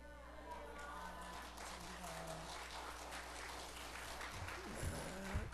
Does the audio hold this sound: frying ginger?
no